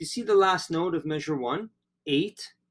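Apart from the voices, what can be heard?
None of the usual background noises is heard.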